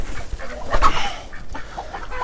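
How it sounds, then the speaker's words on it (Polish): Feather-footed bantam chickens give soft, scattered clucks and short calls inside a coop. Several close birds overlap against light background noise, with one sharper call standing out. "wypuszczę te kuraki"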